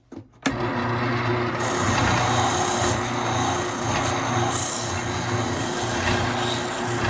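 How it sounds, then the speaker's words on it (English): An oscillating spindle sander smoothing bandsaw-cut wood for a pull-string top starts abruptly, then a loud, steady motor drone with continuous gritty sanding runs close and unbroken throughout, with no talk. "Now I'm going to use the sander. Okay, oscillating spindle sander."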